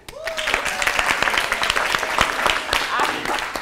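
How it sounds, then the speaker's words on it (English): An audience at a live-streamed event claps steadily throughout, a dense ongoing round of applause with voices audible beneath it. "when I introduce myself, I want everybody to just clap"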